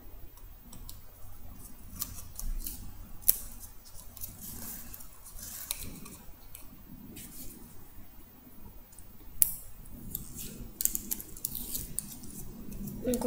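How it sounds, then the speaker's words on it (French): Scissors snipping through material while making a homemade flour bomb, a series of quiet, sharp clicks and cuts repeated at an uneven pace close to the microphone. "on prend le ciseau, on coupe"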